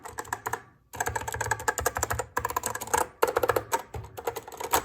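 Brisk, loud typing on an Apple Macintosh 512K keyboard, dense clattering keystrokes in close bursts broken by short pauses, with no voices.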